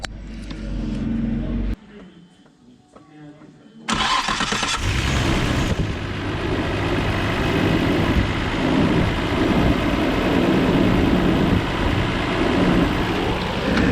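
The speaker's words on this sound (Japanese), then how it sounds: "じゃあちょっと皆さんセルの音聞いてみてください。" A newly replaced car starter motor whirs and cranks, pauses, then the engine catches and settles into a steady, loud running idle that continues to the end.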